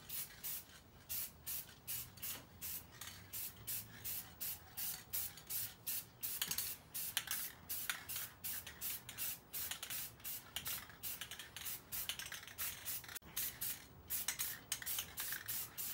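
Short repeated hisses of an aerosol spray can painting car wheels, quick bursts in a steady rhythm, close by with no talking.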